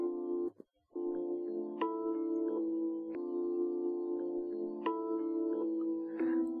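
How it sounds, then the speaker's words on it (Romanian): An electric piano with its low frequencies cut by an equalizer plays a thin, bright chordal pattern with a short gap near the start, quiet and alone with no talking. "Pianul electric acum sună așa."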